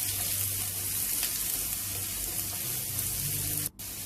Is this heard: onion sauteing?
yes